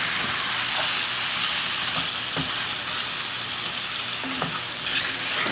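Masala being stirred and fried in a pan for chicken masala biryani, a steady loud sizzle throughout with scraping stir strokes at intervals and no voices.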